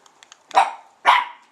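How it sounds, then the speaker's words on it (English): A dog barks twice, loud and close, each bark sharp and spaced about half a second apart, after a few faint, soft yips. "Now Suki's barking at Boo."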